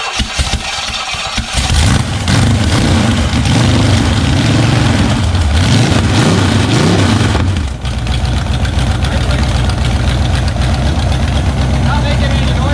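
A Chevy 350 V8 on an engine stand fires up and runs loud and rough close by, its pitch rising and falling as it revs, then settles into a steady idle, with voices partly over it.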